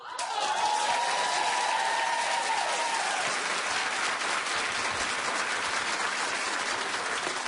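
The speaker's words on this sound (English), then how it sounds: "keep clapping for Paula Abdul." Sustained studio audience applause on a daytime talk show, a dense, steady wash of clapping with a brief whistle or cheer near the start.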